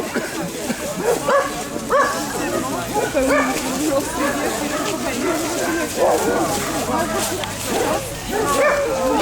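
Adopted dogs at an outdoor adoption event in a city park, barking and yipping repeatedly in a busy scene, with people talking throughout and steady crowd noise underneath.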